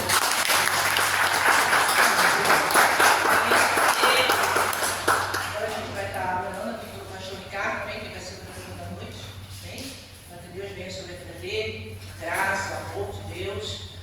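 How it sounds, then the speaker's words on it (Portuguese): A church congregation claps for the Lord, a strong burst of applause for several seconds that gives way to a voice speaking over a steady low hum. "as palmas ao Senhor"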